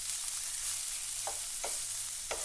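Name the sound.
thinly sliced red onion frying in oil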